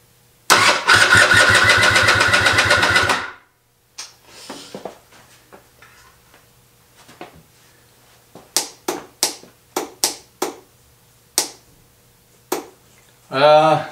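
A KTM 300 XC dirt bike with the choke pulled fires up loudly for about three seconds and then dies, followed by a scatter of sharp clicks and knocks and a final short burst of engine noise.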